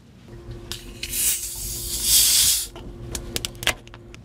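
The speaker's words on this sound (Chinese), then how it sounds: "准备，这是室温的汽水。" A room-temperature soda bottle is opened, giving a loud hissing spray of gas and then fizzing as bubbles rise, with sharp clicks and knocks close by during a chemistry demonstration.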